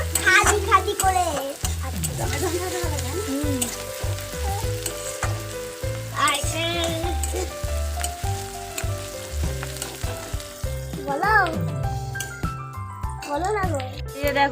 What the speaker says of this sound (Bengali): আমাদের পেঁয়াজ লাল লাল করে ভাজা হয়ে গেছে।